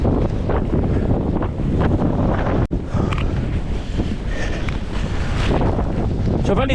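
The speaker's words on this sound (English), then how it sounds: "can you hear that wind?" Strong gusty wind roaring and buffeting against the microphone in a loud, continuous rush, surging and easing in gusts of up to about 60 miles an hour.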